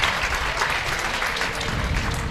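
Steady applause from a crowd at a college softball game between Michigan and Indiana, a dense, continuous wash of clapping heard from a distance.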